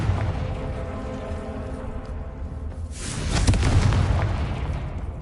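A Confringo fire spell bursts in Hogwarts Legacy, a loud booming blast that swells around the three-second mark over a steady low game rumble and fades into lingering crackle.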